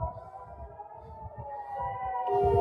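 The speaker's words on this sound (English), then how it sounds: "The sirens are just getting louder and louder." Emergency sirens wail in a steady, overlapping drone that swells noticeably louder and higher toward the end, with a low rumbling bed underneath and no talking.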